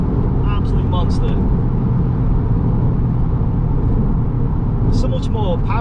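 An Audi S3 8V with a stage 2 remap accelerates hard in second gear, a loud, steady engine roar filling the clip while someone talks briefly over it.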